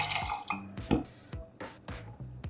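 Black tea is poured into a drink in a kitchen, a run of close, irregular liquid splashes and drips with a few knocks, no voices.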